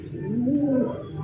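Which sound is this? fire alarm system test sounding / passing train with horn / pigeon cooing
pigeon cooing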